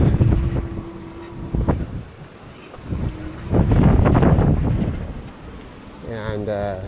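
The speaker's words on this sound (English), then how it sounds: "28 mile an hour gusts." Gusty wind of around 28 mph buffets a rider on a Lectric XP e-bike commute, a loud, rushing roar that surges and fades in waves, with people talking over it.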